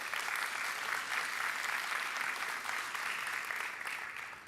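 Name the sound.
audience applause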